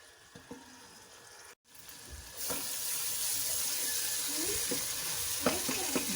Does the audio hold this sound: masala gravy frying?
yes